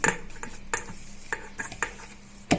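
A spoon scrapes and clinks around a pot while a food mixture is being stirred, giving sharp, irregular metallic taps a few times a second with no talking.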